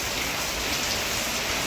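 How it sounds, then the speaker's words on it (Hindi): Steady, dense heavy rain pouring down on surfaces, a constant loud hiss of drops with no voices or thunder, the first heavy rain after a long dry spell. "अब हुई ज़ोरदार बारिश, और ये बारिश बहुत दिन बाद हुई है"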